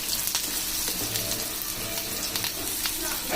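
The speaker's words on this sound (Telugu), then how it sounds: "ఇలా మంచిగా బ్రౌన్ కలర్ వచ్చేదాకా వేయించుకొని" Stuffed brinjal curry frying in a pan until browned, giving a soft continuous sizzle with a few faint clinks, heard close and without speech.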